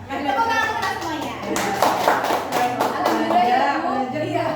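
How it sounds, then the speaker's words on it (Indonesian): A small group claps in a scattered burst that grows fuller and then tapers, with voices talking over the applause. "Tepuk tangan untuk semuanya."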